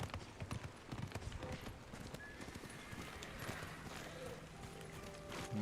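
A horse gallops in the video game Ghost of Tsushima, rapid rhythmic hoofbeats up close with a whinny partway through, over layered game ambience at a modest level.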